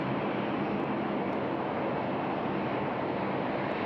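A Qantas Boeing 787 taxiing at Sydney Airport gives a loud, constant jet engine rumble and hiss with some wind buffeting on the microphone, and no talk.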